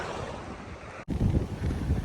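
Wind buffets the microphone while kayaking on clear ocean water, a steady low roar that drops out for a split second and then returns stronger and gustier, with no talking.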